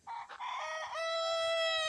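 A rooster among backyard garden chickens lets out a single loud, close crow, its drawn-out call ringing clearly with no talking over it.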